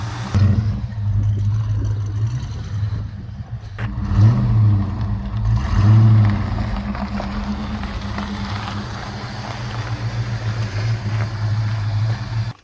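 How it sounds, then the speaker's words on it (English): A car engine idles steadily after a running repair, a deep continuous low rumble with slight surges in revving, close and loud throughout. "this car is running like a top right now"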